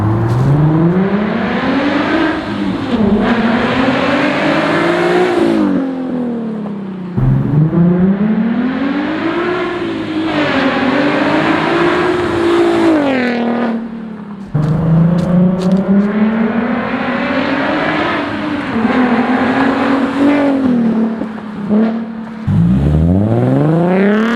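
A Nissan 370Z Nismo with a titanium exhaust roars past three times, each pass swelling as the engine revs up through the gears, then dropping away before the next run.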